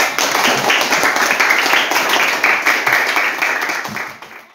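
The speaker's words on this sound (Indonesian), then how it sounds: "Ya, tepuk tangan dulu." Students in a classroom clap after a group presentation, a loud close burst of many hands with a quick uneven rhythm that fades out toward the end.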